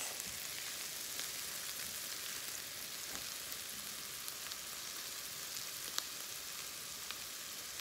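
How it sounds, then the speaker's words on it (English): Ginger, onions, mixed vegetables and mustard seeds sauté in a pan for upma, giving a steady, even sizzle that runs quietly and unbroken throughout, with a few faint pops and no talking. "it's just being sauteed for some time along with the ginger, the onions, the veggies, and the mustard seeds"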